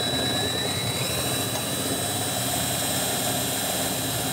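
A handheld drill spins an alternator at around 1,000 RPM, producing a loud, steady motor whine with a constant high tone that holds unchanged throughout and has no voices over it.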